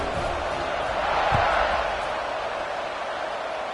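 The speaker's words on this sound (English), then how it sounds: "this crowd is buzzing after that last score" A football stadium crowd buzzes after a score as one broad, sustained roar with a slight swell in the middle. The crowd noise is heard alone and continuous.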